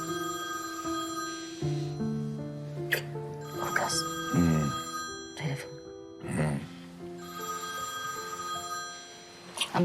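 A telephone rings repeatedly in short bursts over soft background music, with a couple of brief vocal sounds in between.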